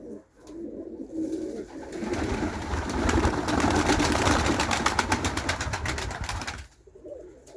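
Pigeons in a loft coo in a dense, rolling chorus, several birds close by building to a loud sustained murmur before easing off.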